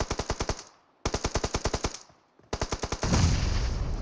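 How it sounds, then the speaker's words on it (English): Rapid automatic gunfire in the mobile battle royale game PUBG Mobile during an esports scrimmage match: two close, loud bursts of evenly spaced shots with short pauses, then a third burst that gives way to a dense, rumbling wash of blasts. "Sage does get knocked as he tried to shoot at Zen and Big Bang."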